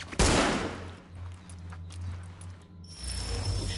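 Gunfire in The Division video game: a sharp, loud burst of shots at the start, then quieter scattered cracks and rattling shots over a low rumble.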